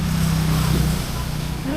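A motorcycle engine runs steadily during a test ride on a highway, a constant loud drone with a slight pitch shift near the end and a voice talking over it.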